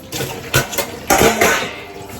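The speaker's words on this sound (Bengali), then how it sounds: "এবার বাসনগুলো মেজে নিলাম" Dishes, pots and cups being scrubbed and washed: loud, close clinks and clattering scrapes of crockery and metal, with a wash of water in between.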